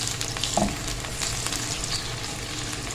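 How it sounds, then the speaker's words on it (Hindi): Ginger garlic paste sizzling and crackling in a hot pan, a constant close hiss with a brief scrape of stirring near the start. "1 टेबलस्पून इसमें डालेंगे अदरक लहसुन। थोड़ा सा हम इसको भूनेंगे"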